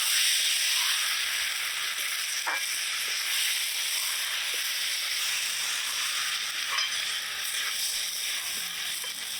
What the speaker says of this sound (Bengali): চালগুলো কিছু সময় ভাজা ভাজা করে নিলাম